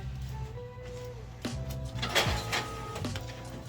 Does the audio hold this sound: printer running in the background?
yes